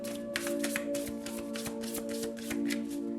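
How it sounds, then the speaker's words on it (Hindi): Tarot cards shuffled by hand, a fast run of crisp riffling flutters repeating steadily for several seconds, close and moderately quiet over a faint steady hum. "ठीक है, तो चलिए शफल कर लेते हैं।"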